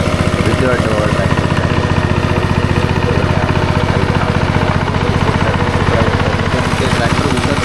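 A tractor engine runs in a Konkan paddy field during rice transplanting, a steady close throbbing drone with no change in pace, while people talk over it.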